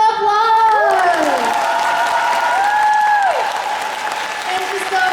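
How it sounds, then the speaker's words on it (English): Audience applause fills a Comic Con Q&A hall in Dortmund, a dense, steady clapping roar from a large crowd that holds for about five seconds, while a voice with rising and falling tones carries over it. "I need a round of applause."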